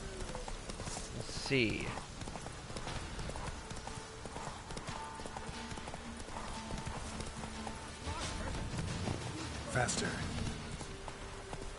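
Horse hoofbeats clip-clop steadily at a gallop for Roach in The Witcher 3 Wild Hunt, loud and continuous with occasional whinnies and game effects, while someone talks briefly over them.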